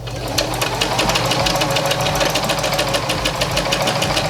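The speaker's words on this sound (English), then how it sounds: "now while it's still inside out, I'm going to sew up the side seams" Sewing machine stitching the side seams of a wrap skirt, a rapid steady mechanical chatter with a low motor hum, close and loud, running without pause and with no talk.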